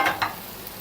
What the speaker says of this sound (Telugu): దీన్ని బాగా కలిపేసుకోవాలండి